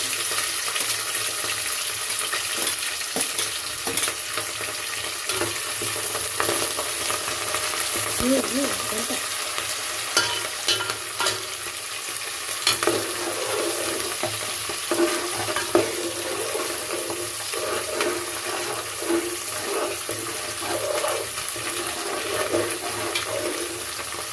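Curry leaves and chillies fry in hot oil for kichidi, a steady broadband sizzle running throughout with occasional stirring scrapes and splutters, fairly close and continuous with no talking.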